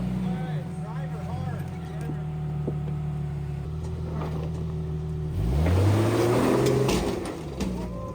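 A Jeep Cherokee engine drones steadily while it is driven off-road, then revs hard and rises in pitch near the end, loud and close, with a person's voice speaking over it.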